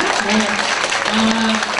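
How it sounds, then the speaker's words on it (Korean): Crowd applause at a Korean political campaign event, brief and steady clapping blended with voices and a faint tonal hum underneath. "다시 한번 큰 박수 한번 보내주시기 바랍니다."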